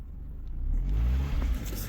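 A Mountaineer SUV stuck in snow has its engine revved hard, a brief, deep roaring surge that rises and eases off, close by and heard alone.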